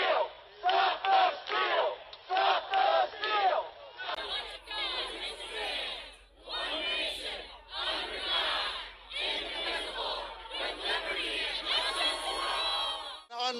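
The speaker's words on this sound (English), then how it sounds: "I've been in crowds like this before, but never anything like this." Large crowd of political supporters on an Atlanta sidewalk, loud massed shouting and chanting in repeated surging bursts, with a dense babble of voices between the waves of yelling.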